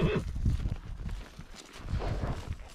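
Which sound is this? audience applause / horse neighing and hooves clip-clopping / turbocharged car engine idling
horse neighing and hooves clip-clopping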